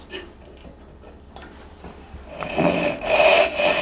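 A hand saw cuts a wooden tenon for frame and panel joinery, with faint scraping at first, then rasping strokes that grow louder and rougher toward the end, heard alone and close.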